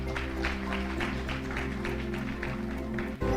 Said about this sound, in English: please, a round of applause for Flora